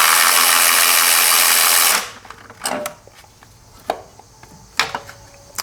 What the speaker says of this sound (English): Now we can remove this 12mm bolt right here and leave all this connected.